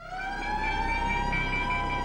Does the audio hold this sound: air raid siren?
yes